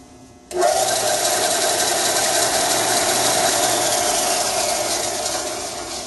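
A belt sander with a newly replaced belt starts up with guards fitted, then runs as a loud, steady mechanical whir with a faint rhythmic rattle that continues with no speech.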